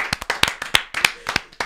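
Roughly a dozen sharp hand claps in quick, slightly uneven succession, close and crisp, with no voices between them.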